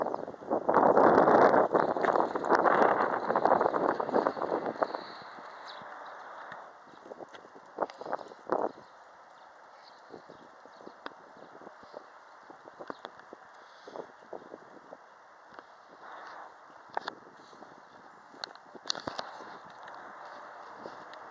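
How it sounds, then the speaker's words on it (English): Heavy wind gusting hard against the microphone, loud and roaring for the first few seconds, then easing into a lower steady blow with scattered knocks and rustles. "Here it comes. The heavy wind."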